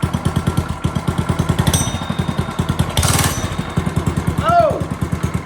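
HoverHearts 99cc gas bike engine running close by with a rapid, steady popping putter, briefly revving up and dropping back, while a person talks over it.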